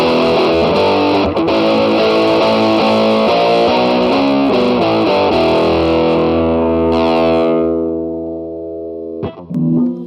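A distorted electric guitar chord rings out through a Line 6 Flextone II amp on a tweed full-drive setting, gritty and overdriven, sustaining for several seconds before fading, then a short scratchy string noise.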